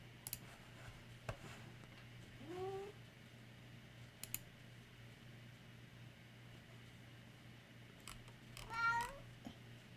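A cat meows twice in a quiet room, short rising calls a few seconds apart, faint and mid-distance, with scattered keyboard clicks and a low steady hum underneath.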